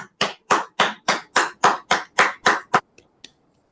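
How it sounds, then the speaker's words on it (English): Toastmasters club members clap in a slow, steady rhythm of about ten loud, evenly spaced claps near the listener, ending with a couple of faint stray claps. "A big round of applause."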